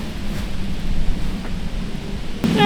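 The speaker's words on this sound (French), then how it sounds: "Ah il pleut de ouf d'un coup." A sudden heavy downpour of rain hisses steadily outdoors, a dense broadband wash, with a brief rustle and a louder burst near the end.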